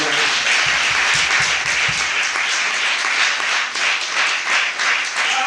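A church congregation bursts into sustained, dense applause and clapping during a French-language worship service, loud and steady throughout with no pauses.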